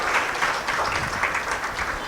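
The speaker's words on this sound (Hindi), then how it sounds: "देखो, ताली मार दो, सच तो बोल रहा है।" Audience clapping at a spiritual discourse, a broad, even applause of many hands with slight rhythmic swells, moderately loud and unbroken with no talk over it.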